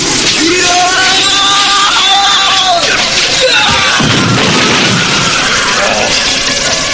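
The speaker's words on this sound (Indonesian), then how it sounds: "Raden Sanjaya memasuki arena dengan teriakan yang sangat panjang" A long, drawn-out battle yell from a warrior entering an arena in a Javanese historical audio drama, a loud sustained cry over dense layered sound effects and music.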